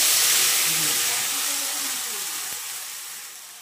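Ground spice paste hits a hot wok with a loud, close, broad sizzling hiss that gradually fades as the frying settles, with faint voices murmuring underneath.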